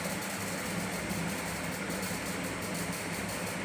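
A jeep engine drones in PUBG Mobile Lite, a steady low rumbling hum with a dense even hiss on top, constant and loud with no pauses.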